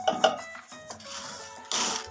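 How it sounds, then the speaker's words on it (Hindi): A metal spoon scrapes and clinks against a pan as raw peanuts roast with salt over a medium flame, giving a few sharp taps and then a softer rattling shuffle of nuts, close and fairly quiet. "इस तरह से हम इसमें मुसलसल चम्मच हिलाते जाएंगे"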